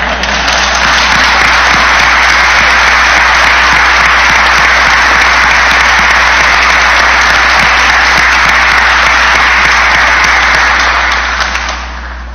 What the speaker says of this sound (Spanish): agradezco el aplauso de quienes corroboran que soy como dicen.